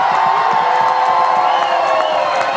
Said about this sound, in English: can you cheer now?